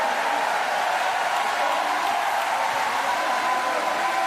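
Crowd applause at a Paralympic goalball match in Paris, a steady dense patter of clapping that holds evenly throughout with no voices standing out.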